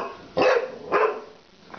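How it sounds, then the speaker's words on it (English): A dog barks at a watermelon, giving two sharp, close barks about half a second apart, followed by a faint yip. "Barking at the watermelon."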